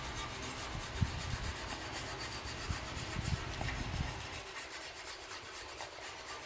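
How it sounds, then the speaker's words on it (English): A wire brush scrubs the rear brake shoes of an Infiniti JX35/QX60 with a steady, close, gritty back-and-forth scraping that eases off near the end, with no voices. "I'm going to do it with the wire brush, same thing as before. Just going to give it a quick run."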